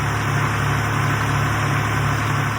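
The engine of a 1962 tractor, running again after 25 years unused, idles loud and close with a steady, unbroken low rumble and chug.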